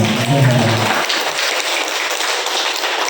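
An audience gives a speaker a round of steady, dense clapping that follows a brief voice at the start and continues evenly to the end.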